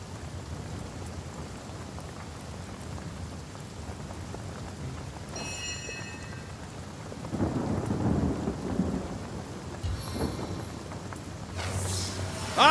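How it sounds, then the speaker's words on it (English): Lightning spell in the Divinity: Original Sin video game crackles amid steady rain, with rumbling thunder swelling midway and sharp electric zaps near the end, no speech heard. "I channel lightning!"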